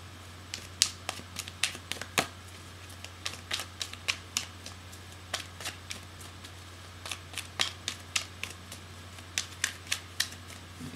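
Tarot cards being shuffled during a reading, a series of crisp riffling clicks in irregular bursts over a steady low hum, fairly close and moderately quiet.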